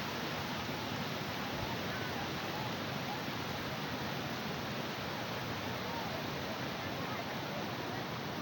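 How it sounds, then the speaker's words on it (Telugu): Water pours steadily over the weir of Pakala lake, a broad, constant rushing wash that fills the whole clip with no breaks, fairly close and even in level. "మత్తడి ఫ్లో కూడా తగ్గిందండి"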